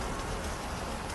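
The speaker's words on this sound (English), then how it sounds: "I'm not sure if you can tell, but it is actually pouring out." Dense, even hiss of heavy rain falling steadily, with no gaps or other sounds.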